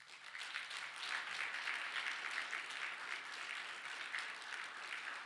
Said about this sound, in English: can we get a round of applause for David?